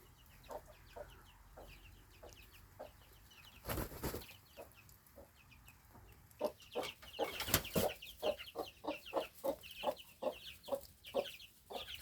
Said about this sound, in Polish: chyba dwa kogutki już do mordobicia przystępują.